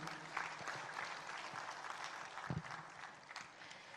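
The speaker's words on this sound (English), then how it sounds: "Can we hear a huge round of applause for all the award winners, please?" Audience applause for award winners at a dairy industry conference, a moderately distant, continuous patter of clapping with a few louder individual claps and a brief low thump.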